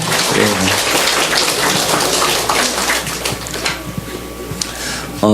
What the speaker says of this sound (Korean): 우리 청년들에게 다시 한번 박수로 격려할까요?